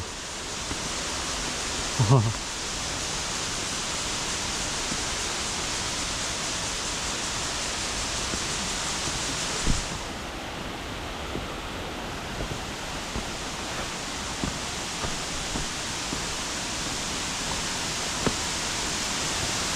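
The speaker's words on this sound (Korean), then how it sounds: "폭포가 장관이네요." A waterfall in a valley (Yunsen Falls / Sister Falls) roars in a constant, dense rush that fills the whole clip, with a few faint knocks near the start and middle.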